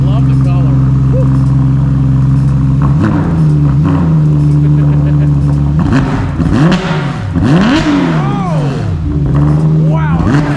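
Chevrolet Corvette C8 Z06 engine on a dyno, a loud steady idle that breaks into repeated rising and falling revs, with excited voices exclaiming over the roar.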